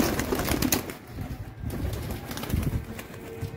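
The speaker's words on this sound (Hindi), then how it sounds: "तो कबूतर जोड़ रहे हैं ना," Domestic pigeons kept on a rooftop loft in strong wind, soft low cooing and rustling heard close by with some flutter and gusty background noise, no talk.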